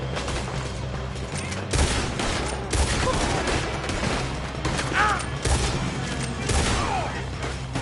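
Gunfire from a shootout in the video game Red Dead Redemption 2, with repeated sharp shots layered over dense action noise and a steady rumble, several bursts spaced across the scene.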